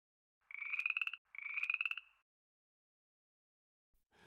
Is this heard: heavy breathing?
no